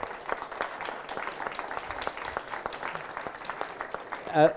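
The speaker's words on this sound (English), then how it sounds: "please join me in thanking our panelists with a round of applause" Attendees at a panel discussion on ocean-based climate solutions applaud the panelists with a moderate, crackling patter of clapping that holds steady, with a brief louder swell at the close.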